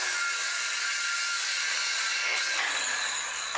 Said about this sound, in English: all I'm going to do is cut some 1x4s down to length